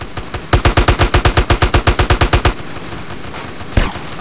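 Rapid automatic gunfire in a video game, a loud rhythmic burst of about twenty evenly spaced shots lasting two seconds, followed by quieter ambience and one more sharp shot.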